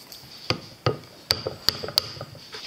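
A hammer taps a metal punch to drive out pins on a Ruger 10/22 rifle, about six times, sharp ringing strikes spaced irregularly, close and fairly quiet.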